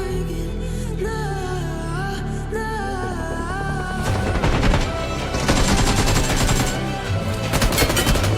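Gunfire in a shooting video game, rapid automatic bursts crackling loudly in the second half after a stretch of tonal game sound, shots overlapping in dense close volleys.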